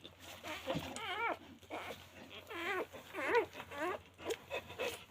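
Newborn American bulldog puppies whimper softly and close by, a run of thin rising-and-falling squeaks and whines repeating over a quiet background.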